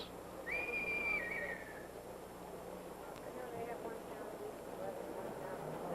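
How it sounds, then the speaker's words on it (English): A police whistle sounds at a busy street crossing, one shrill blast with a falling tail near the start, set against steady crowd and traffic noise. "However, the police whistle and accompanying crowd surge gave McCabe his cue to cross."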